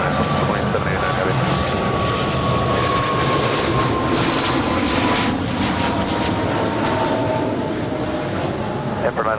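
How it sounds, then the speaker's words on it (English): A Gulfstream G450 business jet landing at LAX after arriving from Vancouver makes a steady, loud jet engine roar with a slowly falling whine, continuous and close throughout. "that is a Gulfstream G450 coming in from Vancouver"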